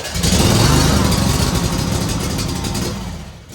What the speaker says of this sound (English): I'm trying to back the mower down the ramps